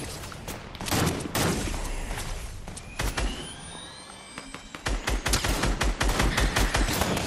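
Gunfire in a video game: bursts of rapid automatic fire, a sustained roar with whooshing sweeps in the middle, then dense repeated close shots at the end.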